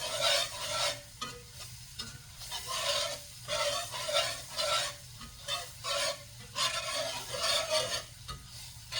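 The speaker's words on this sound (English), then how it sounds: "So we're just gonna keep stirring this until it gets like a chocolate colored brown" Homemade gravy is stirred in a pan as it browns, with a close, rhythmic scraping that repeats every second or so over a soft steady sizzle.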